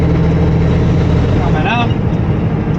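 A semi truck engine runs in sixth gear with an 18-speed manual transmission, a loud, steady low drone that fills the cab while someone talks over it.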